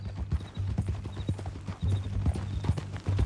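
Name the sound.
horse hooves clip-clop in a video game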